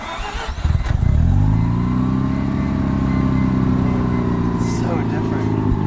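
An RC car engine cranks with a few rough bursts, then catches and settles into a loud, steady, droning idle that holds to the end, with voices faintly in the background.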